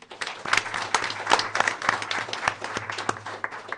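An audience claps at a school board of education meeting, a brief round of fairly soft, quick applause from a moderate crowd that tapers off toward the end.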